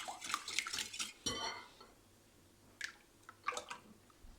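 A spoon clinks and scrapes around a bowl while savory cake batter with salt and oil is mixed. Quick bursts of stirring come close and fairly quiet, separated by a short pause.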